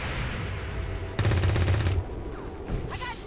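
A burst of rapid automatic gunfire in the XCOM 2 video game, a dense, loud, steady stream of shots for under a second, with quieter game sounds before and after.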